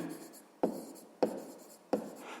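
Pen scratching on paper while a math exercise is worked out by hand, three sharp strokes at a steady rhythm with quiet scribbling between, close and faint.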